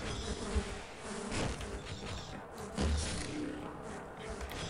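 Bees buzz in the video game Half-Life, a continuous droning hum that rises and falls in intensity over a few seconds with faint background game noise and no talking.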